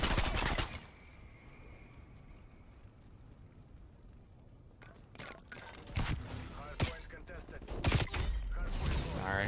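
Rapid aircraft strafing gunfire in a Call of Duty Cold War match, bursts of loud automatic fire opening and closing the stretch with a quieter lull between, while a player talks over it.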